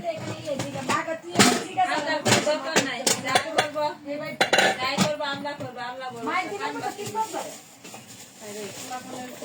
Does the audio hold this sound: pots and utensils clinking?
yes